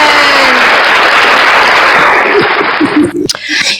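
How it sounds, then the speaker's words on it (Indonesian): A Christian audience applauds loudly for God in a dense, roaring wash of clapping that cuts off abruptly, followed by scattered voices and movement. "Tepuk tangan buat Tuhan ya Kristen."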